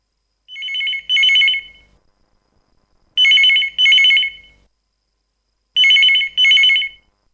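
A telephone rings with an incoming call to a live radio phone-in show: three loud, clear double rings, evenly spaced with silent gaps, heard alone.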